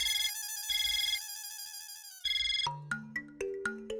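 A telephone ringtone plays: repeated electronic beeping bursts with pauses, then a bright melodic ringtone tune of plucked synthetic notes, loud and close with no one talking.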